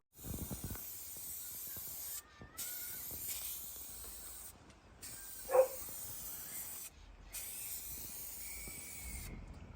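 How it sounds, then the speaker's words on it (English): Aerosol rattle-can spray paint going onto a car bonnet in the street, several long close hissing bursts separated by short pauses, with a faint clink partway through. "Rattle can in it. Rattle can in that bonnet."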